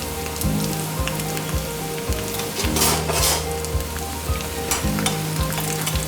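Sun-dried lentil dumplings drop into hot oil for a purslane stir-fry, giving a dense, steady crackling sizzle close by, with a low rhythmic hum underneath and no talking.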